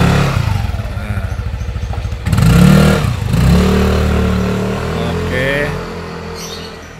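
A 2016 Yamaha NMax scooter engine idles with a steady low putter, then revs up and settles into a running drone on a test ride after reconditioning. It sounds near and fairly loud, with some talk over it.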